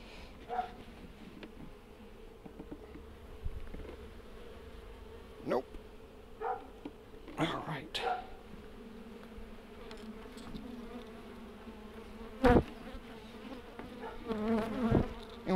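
Honey bees buzz steadily throughout a beehive inspection, a dense close hum with occasional knocks and handling noises, while people talk quietly at times.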